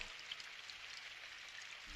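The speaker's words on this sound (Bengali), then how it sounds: "এমন দিনে বাইরে বৃষ্টি হচ্ছে কেন?" Steady rain falls outside in a cartoon, a soft continuous hiss of drops with no breaks, faint and even throughout with no voices.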